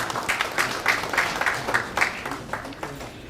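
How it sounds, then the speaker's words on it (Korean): Audience at a Saenuri Party Daejeon policy talk show event clapping together in a steady burst of applause, fairly close and sustained, gradually tapering off. "박수 부탁드리겠습니다."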